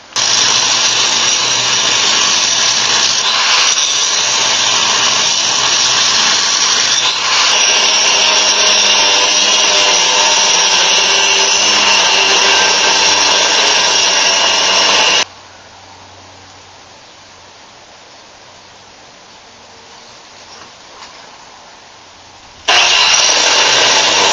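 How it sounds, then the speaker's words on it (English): Welded steel hinges being cut off a security cage with a power cutting tool: a loud, close, sustained grinding whine that drops to a low idle hum for several seconds, then surges back at full pitch. "we're going to cut the two hinges off and those two big boxes"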